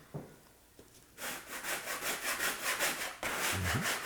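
A hand scraper rasps over a surface to strip tough industrial paint, with a repeated back-and-forth rhythm of close, loud strokes after a brief quiet start and no speech.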